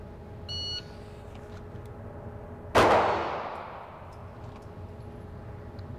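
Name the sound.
pistol shots fired during a shooting drill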